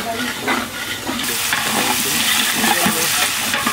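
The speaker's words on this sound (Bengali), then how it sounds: "এখন হচ্ছে আমরা মাছটা ভুনা করব।" Tuna fish is stir-fried in a pan with chopped onion, green chili, onion paste and garlic, giving a loud, continuous sizzle with scraping stirring strokes throughout.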